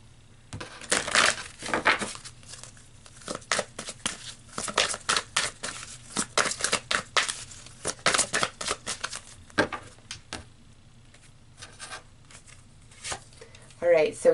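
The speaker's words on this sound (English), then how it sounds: "So let's keep pulling more cards" Tarot cards pulled and shuffled close up, with dense bursts of crisp papery riffling and flicking in irregular runs, quieter pauses between them, and a brief voice near the end.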